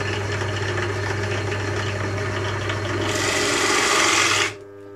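A Procraft BD 1850 drill press with a 450 W motor runs at medium speed, about 1280 rpm, as a steady close motor hum with a brief louder grinding whir before it cuts off abruptly.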